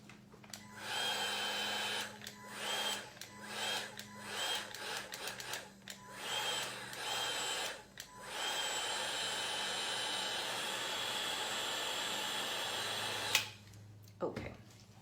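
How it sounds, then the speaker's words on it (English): A hair dryer blows steadily to spread alcohol ink, its airy whir starting and stopping in short bursts before running continuously, with faint handling noises. "And if you want something to spread, I use the blow dryer,"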